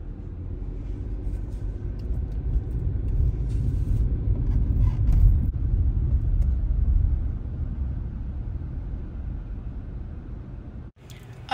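Steady low road rumble from a car interior during an hour-long drive home, loud and continuous with engine and tire drone throughout, dipping briefly near the end.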